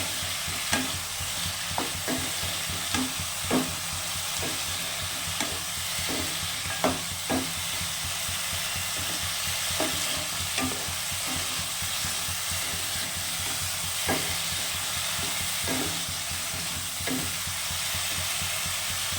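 Spiced chital fish curry with new potatoes sautéing in a pan, a continuous sizzle under rhythmic scraping stir strokes repeating about every second, close and steady.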